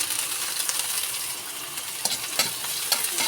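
Onion and garlic sauté in a pan with a steady close sizzle and hiss, while scrapes and light clinks of a stirring utensil come through, growing more frequent toward the end.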